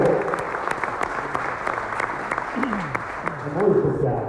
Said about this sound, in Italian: anche su questo farei un applauso